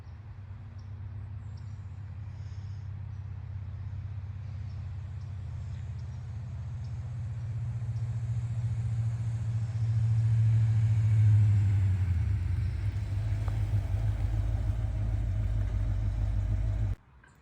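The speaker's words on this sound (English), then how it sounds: "Just took it on a quick spin around the block to make sure the brakes work." A 1989 Ford Bronco drives around the block, its low engine rumble steady and swelling slightly midway before cutting off abruptly near the end, heard from inside or close by with no voices.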